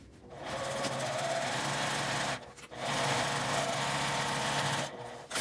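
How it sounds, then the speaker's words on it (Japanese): Sewing machine stitching a seam with a 1 cm seam allowance on a baby backpack: two long runs of steady, fast mechanical whirring and needle chatter, close up, with brief pauses between runs. "端を留めて3辺を1センチの縫い代で縫います。"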